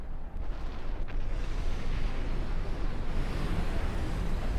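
Underwater bombing of submarines in the real-time strategy game Supreme Commander 2, a loud, dense, rumbling wash of muffled blasts with a sharp crack early on, sustained throughout.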